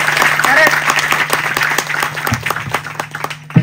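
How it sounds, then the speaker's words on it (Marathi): An audience at a Marathi kirtan claps for Gawli Baba, a short dense burst of applause with voices mixed in that fades toward the end. "असे असणारे गवळी बाबासाठी एकदा तुम्ही काय करा, टाळ्या वाजवा"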